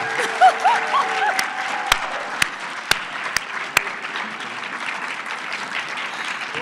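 Attendees at an academic association's closing session applaud the incoming president, a steady wash of clapping with a few sharp nearby claps and some voices murmuring underneath.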